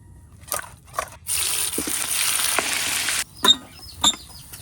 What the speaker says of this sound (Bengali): এখন প্রথমে ইলিশ মাছটারে একটু ভাজতে নিতে হইবে